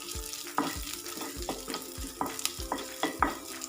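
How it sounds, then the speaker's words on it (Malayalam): Onions and curry leaves sizzle in hot oil while a spoon stirs them, with repeated scraping strokes at a steady, uneven rhythm over a soft, continuous frying hiss, close and fairly quiet, without any talking. "ഉള്ളി നല്ലോണം മൂക്കുന്നത് വരെ നമ്മൾ ഇളക്കി കൊടുക്കുക."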